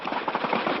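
Rapid bursts of gunfire, a dense crackling rattle that stays steady and fairly loud through the short moment, heard outdoors with no talking.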